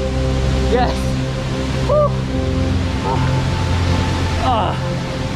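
A waterfall in the Philippine rice terraces gives a steady, close, broadband rush of falling water that never lets up. A few short voiced exclamations break through over it.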